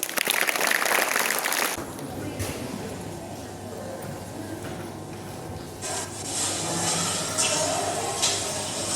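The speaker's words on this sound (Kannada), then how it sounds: "ಅವರನ್ನು ಒಂದು ಜೋರಾದ ಚಪ್ಪಾಳೆ ಮೂಲಕ ಸ್ವಾಗತಿಸೋಣ" Students and audience at a school Kargil Vijay Diwas event give applause welcoming a short play by ninth-grade pupils, a loud burst of clapping at the start that fades into a murmuring room with scattered voices.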